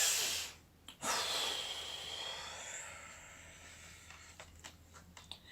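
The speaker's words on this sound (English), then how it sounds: "Let's take a breath for Jabari." A storyteller takes a slow, deep breath, audible as a soft airy inhale and exhale with no words spoken, followed by faint light rustles.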